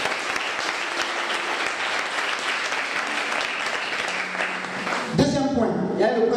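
A congregation at a church retreat breaks into sustained applause and cheering, a dense, steady clatter of clapping lasting several seconds before a voice cuts in at the end.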